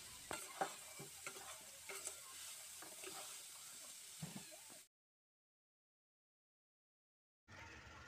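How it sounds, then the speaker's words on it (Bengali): Sago khichdi with dal, vegetables and spices is stir-fried in a pan, with repeated spatula scrapes and clacks over a soft sizzle, then a few seconds of total silence before the frying resumes. "সব কিছুকে একসঙ্গে দিয়ে খুব ভালো করে কিন্তু কষিয়ে নেব।"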